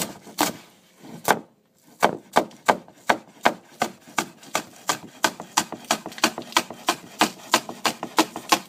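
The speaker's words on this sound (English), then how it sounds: "Make sure you cut off the root part. You don't want that. And we just slice." A knife slices scallions on a cutting board in a steady run of about two dozen crisp, close chops with one short pause near the start. Each cut lands as a sharp wooden tap, and no one speaks.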